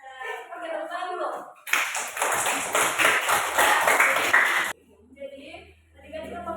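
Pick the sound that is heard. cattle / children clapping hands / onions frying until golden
children clapping hands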